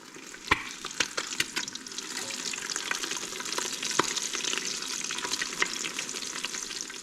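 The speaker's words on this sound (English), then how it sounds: "Usually after I flip the eggs" Eggs frying in a Ninja Foodi, with steady close sizzling and crackling throughout and sharp clicks and scrapes of a mini spatula moving and flipping them.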